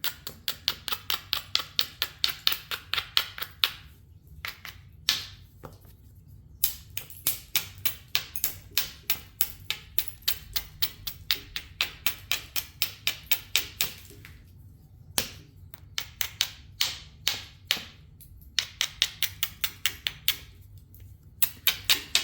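A hammerstone strikes Chouteau flint over and over while spalling, sharp close clicks in quick runs of strikes separated by brief pauses, with no talking.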